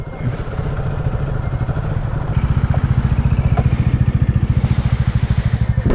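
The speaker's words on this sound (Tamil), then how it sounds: "ஒரு மாதிரி டேப்பிங் நாய்ஸ் வர மாதிரி ஆகிடுச்சு வண்டி இன்ஜினு" A motorcycle engine idles close by with a steady, rapid mechanical tapping that grows louder and more rhythmic partway through.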